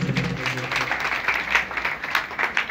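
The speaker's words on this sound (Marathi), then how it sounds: "सर्व विद्यार्थ्यांकरता जरा जोरदार टाळी वाजवा" A crowd at a kirtan event claps steadily for a few seconds for students, a dense, even patter of applause from many hands.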